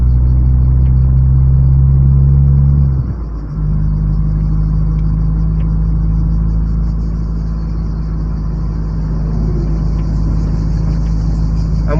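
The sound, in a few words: car driving up a road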